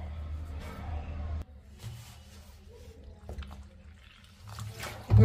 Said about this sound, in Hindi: थोड़ा थोड़ा पानी देते जाएंगे और गाढ़ा जो है घोल बना लेंगे।